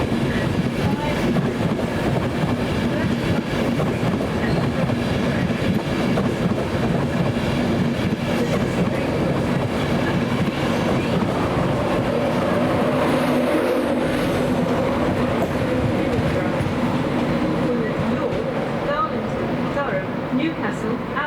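A five-carriage passenger train rolls along the rails with a constant rumble and faint rhythmic clatter heard from inside a carriage, while an announcement plays over it.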